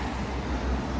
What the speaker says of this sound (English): excuse the noise of the traffic